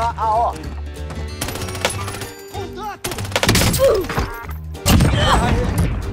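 Explosions and gunfire from the Warzone video game: dense bursts of automatic fire and heavy blasts crowd each other, some swelling loudly near the end, with someone talking excitedly over the din.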